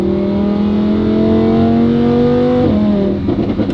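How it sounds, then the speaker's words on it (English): A Lamborghini fitted with a Valvetronic Designs valved exhaust holds a loud, steady deep rev that climbs slightly, then drops off abruptly into a rumbling idle with a few crackles. "when the valves are open, you still get to enjoy a very deep, aggressive sound out back"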